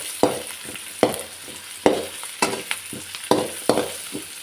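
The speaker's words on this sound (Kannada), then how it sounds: "ನೆಕ್ಸ್ಟ್ ಇದಕ್ಕೆ ನಾನು ಈರುಳ್ಳಿ ಹಾಕಿ ಚೆನ್ನಾಗಿ ಫ್ರೈ ಮಾಡ್ಕೊಳ್ಳಿ" Onions frying in a pan for egg curry, stirred with about nine sharp, evenly spaced scraping strokes over a steady close sizzle, with no talking.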